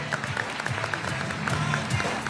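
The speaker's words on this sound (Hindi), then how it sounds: "बहुत सारी तालियां बजा दें, वेलकम कर दें" Audience applause welcoming panel guests Ali Basit and Kamran, a dense, steady round of clapping from a crowd with voices murmuring underneath throughout.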